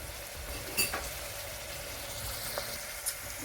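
Chicken and turkey fry lightly in a pan with a gentle, even sizzle, interrupted by a couple of faint clinks and stirring sounds.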